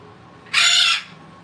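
A pet cockatoo parrot lets out a single loud, harsh screech lasting about half a second, close by and alone against a quiet room.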